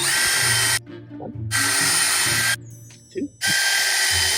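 A power drill whirs in three loud bursts boring pilot holes into wood, with short pauses between them and a voice briefly counting in one gap.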